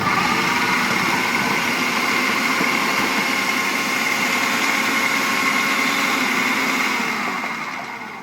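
A Miyako food processor motor runs steadily while slicing potatoes for chips, a loud continuous whirring drone that holds for about seven seconds before tapering slightly at the end.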